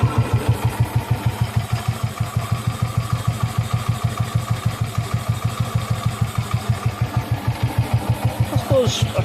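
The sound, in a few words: BSA B31 motorcycle engine running and idling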